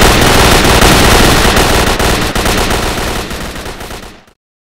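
Sustained automatic gunfire in S.T.A.L.K.E.R.: Shadow of Chernobyl, a loud, dense burst of rapid shots that fills the space for about four seconds before cutting off abruptly into silence.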